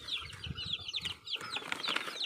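Chickens fed on a Filipino farm cluck and chirp in quick, busy bursts at close range, with several birds calling at once over scratchy movement and low thumps.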